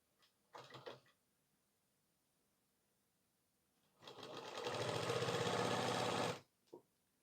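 A sewing machine stitches a blouse shoulder seam, starting with a short burst, then a pause, then a longer loud run of rapid mechanical whirring close up, ending with a brief tap.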